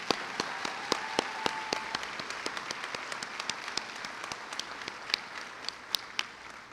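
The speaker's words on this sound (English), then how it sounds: "Let's have one more round of applause for all three of them." Audience applause at a University of Minnesota Rochester spring commencement ceremony, a moderate, steady patter of many hands clapping with sharper individual claps standing out, fairly distant in a large space.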